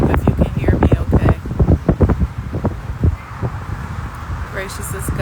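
Wind buffets an outdoor microphone with gusty, low rumbling bursts that come and go loudly, then ease into a softer steady rush.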